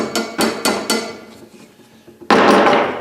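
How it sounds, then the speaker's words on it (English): Sharp tapping as 5/16 inch tubing is driven onto an insert during a primary filter sock installation: four quick close knocks, a pause, then one louder strike. "5/16 inch tubing again, tap it in."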